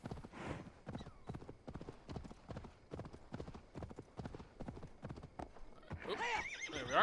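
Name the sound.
horse hoofbeats in the video game Assassin's Creed Valhalla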